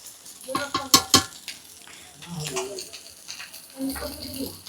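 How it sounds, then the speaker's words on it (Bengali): Banana flower curry (mochar chachchori) frying in a pan, spiced with chilli and turmeric powder; a soft sizzle runs under a few sharp utensil clinks and stirring scrapes close by, while someone talks. "মোচার চচ্চড়িটা বসিয়ে দিয়েছি"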